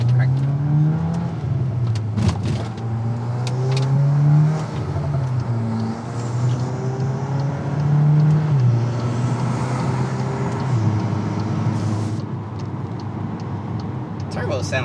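A Volkswagen MK8 Golf R engine with an open air intake revs repeatedly with a throaty intake roar, rising and falling in pitch several times, loud and close, with a hiss of air between revs.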